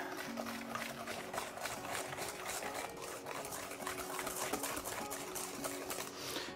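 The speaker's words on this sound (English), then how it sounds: "I'm just gonna whisk this in here." Whisk beating rapidly against a bowl as milk is worked into egg yolks for a custard, a steady, dense scraping rhythm that runs close and fairly loud throughout.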